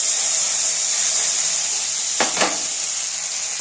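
A steady, bright sizzling hiss rises from hot oil as spice pastes go in for a Bengali fish-egg curry with pointed gourd and potato: radhuni, cumin and ginger pastes with turmeric and chili powder. Two brief scrapes cut through near the end.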